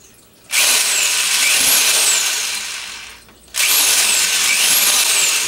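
A power drill bores holes through the sides of a plastic food-composting worm bin, two loud sustained whirring bursts with a short pause between them, close up and with no talk.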